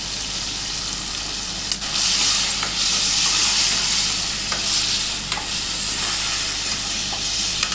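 Tomato puree frying and sizzling in a pan for pasta, with a steady loud hiss and repeated scraping stirs throughout, no voices.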